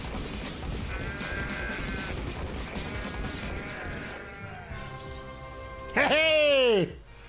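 A sheep in a deer simulator video game gives a loud, wavering bleat near the end, after a stretch of busy game noise with tonal sounds.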